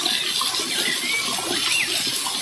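Water at Dhoddavaram Falls near Koyyuru pours down over rocks in a steady, close, broadband rush that stays even and unbroken throughout.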